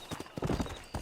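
Horse hooves clip-clopping in the western game Red Dead Redemption, a quick run of several close, hollow hoofbeats in an uneven trotting rhythm.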